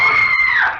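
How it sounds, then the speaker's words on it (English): A single loud, sustained scream used as a sound effect in a 1948 radio mystery drama, harsh and close, briefly breaking before trailing off downward. "It was at that precise moment that I heard the scream."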